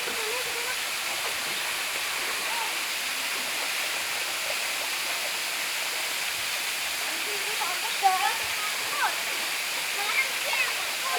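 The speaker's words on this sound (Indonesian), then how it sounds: "Inilah air terjun Banyu Nibong." Banyu Nibong waterfall roaring as a steady, loud broadband wash of falling water, with faint voices and a few brief splashes or shouts near the end.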